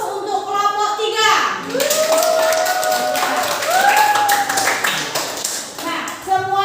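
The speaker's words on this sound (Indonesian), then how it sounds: "sekarang kita beri aplaus untuk kelompok 3" Classroom applause for a student group, a burst of clapping from many hands mixed with children's voices, with a teacher's voice speaking over it.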